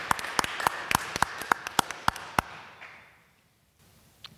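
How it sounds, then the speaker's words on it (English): Audience at a poetry reading in Grand Rapids bursts into applause, with a run of sharp individual claps riding over a dense wash of clapping that fades out, leaving near silence and one stray clap. "Everybody, please give them a proper Grand Rapids round of applause."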